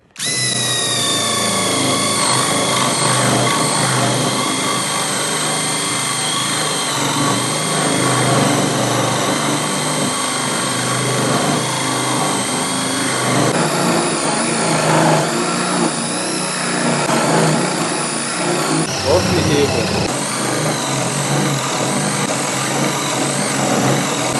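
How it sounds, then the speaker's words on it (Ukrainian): A Sturmax CDM3212BL brushless cordless drill bores a 35 mm spade-bit hole in wood, its motor whining loudly and continuously under load for over twenty seconds, with slight shifts in pitch and no talking. "якщо тобі навіть отвір 35 м пером треба в дереві висверлити, то повір, пробуємо"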